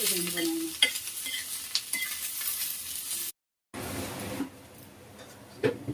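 Onion frying in a pan with a steady sizzle and scraping stirs of a spoon, a brief silent break midway before the frying resumes; no talking.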